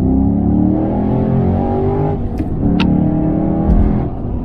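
A Holden Commodore VF with an LS3 V8 and modified intake and exhaust runs on a dyno, its engine note holding a steady high drone, dipping briefly, then climbing again with rising pitch.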